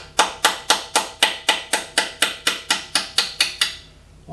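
Twelve evenly spaced, sharp metallic hammer blows strike a punch on a Toolmaster 1D being restored, a steady rhythm that stops cleanly.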